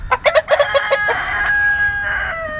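Aseel and desi chickens on a farm: a burst of rapid, close clucks is followed by a long, loud rooster crow that trails off.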